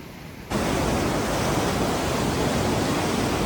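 A mountain stream in Manali rushes loudly and steadily. It starts suddenly after a half-second lull and then holds as a dense, close, continuous roar of flowing water.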